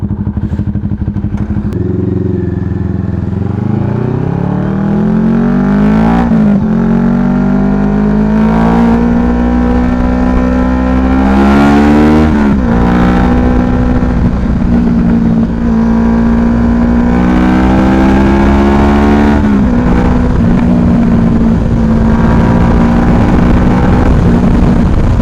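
NK motorcycle after its first oil change, engine running close and loud with several throttle blips that rise in pitch and settle back to a steady idle, with clatter throughout.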